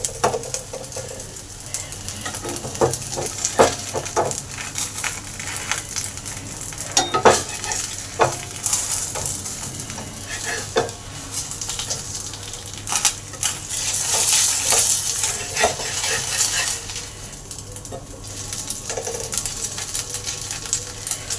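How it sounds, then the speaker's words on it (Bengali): Papaya-filled patishapta pitha frying in oil or ghee in a pan, a steady sizzle broken by scraping and clinks of a utensil against the pan, close and moderately loud. "এটাকে তেল বা ঘি দিয়ে একটু ভেজে নিলেই সুন্দরভাবে হয়ে গেল"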